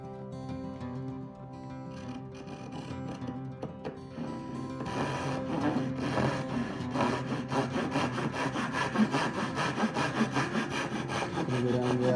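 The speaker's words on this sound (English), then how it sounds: "I'm going to cut a cleaner line with the Dozoki saw." A Japanese dozuki hand saw cuts through walnut for a side table, starting with slow light strokes and building into fast, steady, rhythmic rasping strokes close to the mic.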